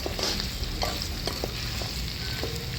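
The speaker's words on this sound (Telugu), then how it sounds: "కొద్దిగా అల్లం పేస్ట్ వేసి కొద్దిసేపు ఆయిల్లో మగ్గనివ్వాలి" Ginger paste frying in oil in a pan over a wood fire, a steady close sizzle with occasional scrapes and clicks from stirring, no voices.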